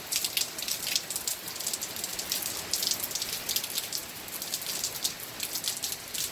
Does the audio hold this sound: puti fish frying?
no